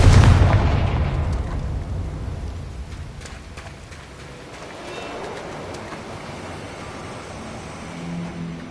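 A Confringo fire-spell blast in Hogwarts Legacy, a loud booming explosion at the start that rolls off into a long fading rumble with crackling debris and faint ambient bird chirps.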